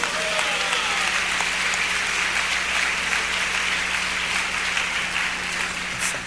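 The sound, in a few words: audience applauding Jesus in church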